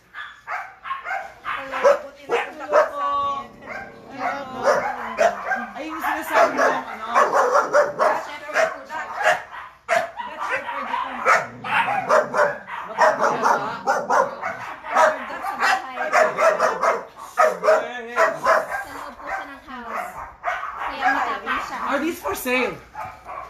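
Husky puppy whimpering and crying with high yips and whines, close by and repeated throughout, while people talk warmly over it.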